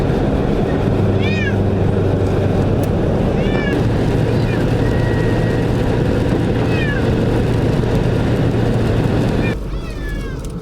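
A cat meows repeatedly from inside a moving car on a long highway drive, the plaintive cries rising at intervals over the steady low rumble of road and engine noise.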